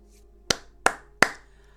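Three slow, sharp hand claps spaced about a third of a second apart, fairly close, as if from one person clapping in the Star Trek: Starfleet Academy episode, with nothing else around them.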